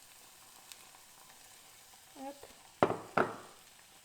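Beaten eggs with mushrooms sizzle faintly over low heat in a pan, with a brief voice and two sharp scraping clatters as the spoon stirs.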